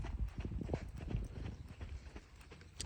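Ridden thoroughbred horse hooves clip-clop in a steady rhythm, close and clear, with soft scuffing between beats.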